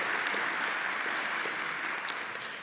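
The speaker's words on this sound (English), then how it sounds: "So what about a round of applause for everybody who's here and the collaborations to be made today." Round of applause at a conference plenary session, a full, steady crowd clapping that holds evenly and fades slightly at the end.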